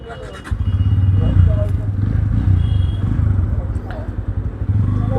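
Motorcycles set off on a Sunday morning group ride with friends, a steady loud engine drone starting after a brief quiet moment and continuing with slight revving, while people talk nearby.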